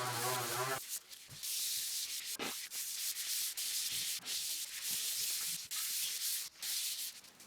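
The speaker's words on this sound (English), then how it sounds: "Now I'm going to sand down the logo and all this text on this 3-inch pipe cap." Sandpaper rubbing a 3-inch pipe cap to remove raised logo and text, repeated close, loud back-and-forth scratchy strokes in a steady rhythm, with a short tonal hum at the very start.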